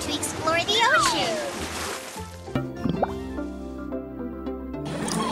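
Watery cartoon splash and bubbling as Coco dives underwater in a Cocobi children's animation, with drippy, sloshing sounds over a busy tonal music bed.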